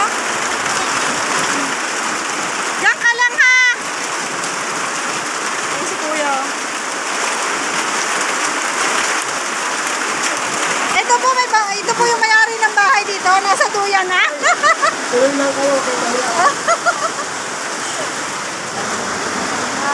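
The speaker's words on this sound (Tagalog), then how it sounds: "Lakas ng ulan dito." Heavy rain pours down steadily outdoors, a dense loud hiss filling the whole stretch while voices speak briefly over it at times.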